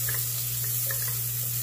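Calabresa sausage rounds sizzle in hot fat in a pan, a steady close frying hiss with soft scattered pops and a low constant hum underneath.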